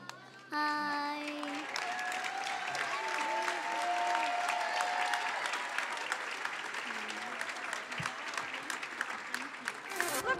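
Audience applause for a children's choir at a luncheon event, a sustained dense roar of many hands clapping that fills the room for about ten seconds, steady and loud with no voices standing out.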